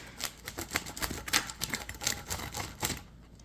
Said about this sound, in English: I'm going to take my pizza cutter and I can cut it right on the tray.